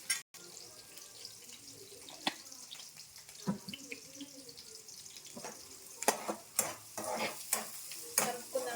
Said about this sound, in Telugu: కలుపుకుందాం ఉల్లిపాయలు ఎర్రగా వేగనిద్దాం ఒక రెండు నిమిషాలు